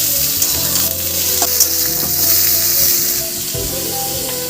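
Pointed gourd (potol) frying in hot oil for a vegetarian chal potol dish, a steady loud sizzle and crackle throughout with faint stirring scrapes and no talk.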